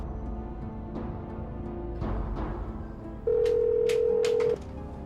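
A phone-call tone of a single steady electronic tone lasting about a second, moderately loud and close, follows softer faint tones and rustling room noise.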